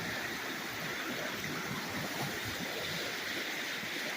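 Waves breaking offshore along the rocky Lake Superior shoreline at Whitefish Point, a steady, dense wash of surf with continuous rushing noise and no distinct individual crashes, no voices.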